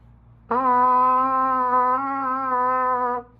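A held trumpet note with a slightly wavering, uneven tone from the first and third valves not pressed fully down, sustained for nearly three seconds, played alone and close by.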